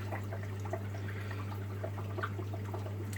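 Water dripping slowly from an aquarium acclimation tube into a fish tank, faint irregular drips and small trickling sounds over a steady low electrical hum.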